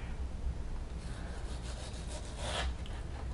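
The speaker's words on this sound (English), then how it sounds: "So we're gonna try to get some nice thin slices here." Sharpened knife slicing partly frozen, firm beef into thin jerky strips, heard as a close, steady rasping and sawing friction with a slightly louder stroke near the end, no talking.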